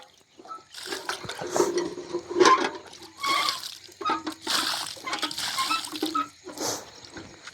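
Cold water splashes and pours in uneven bursts during an outdoor bath in a forest setting, fairly close and loud, with brief pauses between the splashes.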